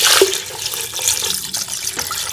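About one liter of water splashes and gurgles as it is poured into a pressure cooker for beef pulao, a steady hissing stream close by with small splashy bursts.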